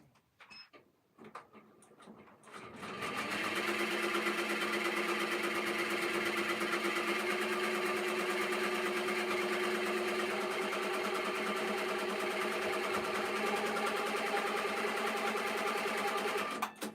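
Embroidery machine stitching out an Etsy order, a steady close mechanical whirr with rapid rhythmic needle clatter running continuously after a few brief clicks and handling noises at the start.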